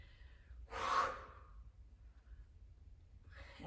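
A quiet, close breath drawn in and pushed out during a home bodyweight strength workout, one clear breath followed by the start of another after a pause.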